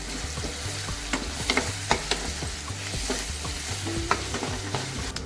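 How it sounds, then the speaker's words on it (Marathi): Onion and garlic sizzle steadily in a pan while a utensil scrapes and stirs in repeated strokes, close and fairly loud, with no talking. "आता कांदा लसूण चांगला शिजवून घ्यायचं आहे आपल्याला"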